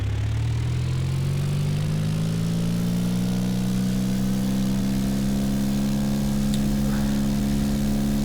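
Simulated aircraft engine in the X-Plane flight simulator throttles up for a takeoff run, a steady loud drone whose pitch climbs smoothly and continuously with no talk over it.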